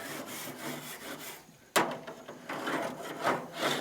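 A hair scraper dragged over wood outdoors, giving rough, grainy scraping strokes up close, with one sharp knock partway through.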